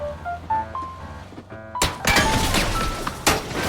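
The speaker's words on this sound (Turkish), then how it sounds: "Cam patladı." In PUBG Mobile, a sudden crash of breaking glass bursts in after a quiet stretch of soft tones, followed by a dense clattering scatter of shards.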